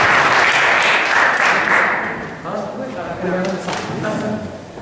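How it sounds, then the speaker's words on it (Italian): Audience applause for a student at a school scholarship award ceremony, loud and dense at first, then thinning as a voice begins talking over the fading clapping. "Un applauso a te."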